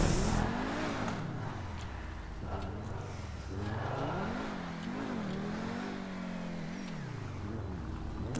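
A custom car in GTA 5 revs and accelerates hard, its engine note climbing and falling through gear changes in a steady, continuous drone that stays moderately loud throughout.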